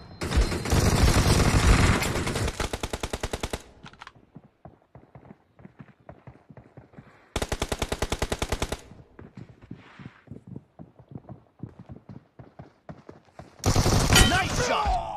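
Rapid automatic gunfire from a multiplayer shooter video game, with loud sustained bursts and dense strings of clattering shots separated by short pauses.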